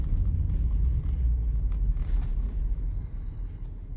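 A school bus rumbles past on the road with a heavy, low engine drone, steady and fairly close, fading slightly toward the end.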